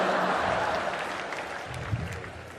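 Audience applause at a comedy roast, a steady wash of clapping from a large crowd that holds level and slowly eases over a few seconds, with crowd murmur mixed in.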